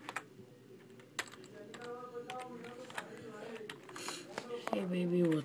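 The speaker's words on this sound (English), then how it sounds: "I'm gonna type in, hey girlfriend" Keys clatter on a computer keyboard in short irregular bursts, close and moderately loud, with a person talking over the typing and a brief tonal sound near the end.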